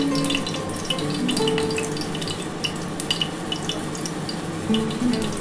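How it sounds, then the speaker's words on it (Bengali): Bitter gourd pieces fry in oil in a pan, giving a continuous bubbling sizzle with occasional stirring clinks, close and fairly loud, with no one speaking. "এবার আমি উচ্ছেগুলো ভেজে নেব।"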